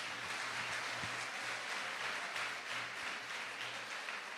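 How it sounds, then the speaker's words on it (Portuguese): Steady applause from a congregation at a Portuguese-language church service, a continuous dense patter of clapping that holds evenly throughout, with a low hum underneath. "Aplauda ao Senhor Jesus."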